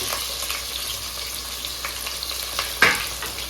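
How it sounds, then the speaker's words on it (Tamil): Two chopped large onions sizzle and fry in hot oil for biryani, cooking toward golden brown, a steady close crackle with occasional stirring scrapes and a brief louder clatter near the end. "பெரிய வெங்காயம் இது நல்லா ஒரு கோல்டன் ப்ரௌன் பார்த்திங்கன்னா ஆகிற அளவுக்கு நல்லா வதங்கட்டும்."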